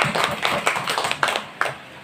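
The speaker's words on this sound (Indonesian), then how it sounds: "tepuk tangan dulu untuk kita sama-sama Bapak Ibu." Applause from a group of teachers in a training session on positive discipline: dense, overlapping hand claps sounding steady and fairly close for about two seconds, with a few sharper individual claps standing out near the end.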